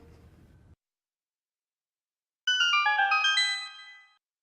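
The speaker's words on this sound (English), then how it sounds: "Do you hear that? It's coming from the direction of a gold sculptula, so you can find it by following the sound." Gold Skulltula cue from the video game Hyrule Warriors: a bright, tinkling chime run that rings out and fades away after a quiet opening and a moment of silence.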